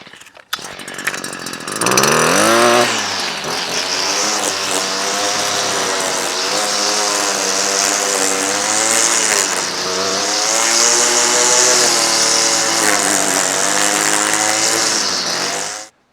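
Lawn trimmer cutting grass very short, a loud whining motor that revs up after a brief start and then holds a high buzzing tone with small wavering changes in pitch as it cuts, close by.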